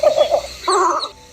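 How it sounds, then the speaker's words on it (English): A least bittern gives a deep, gravelly cooing call, a short run of three low pulsed notes followed by a longer, rougher note, close and clear with no other sounds. "you'll likely hear its miniature roar, a deep, gravelly coo echoing through the morning mist"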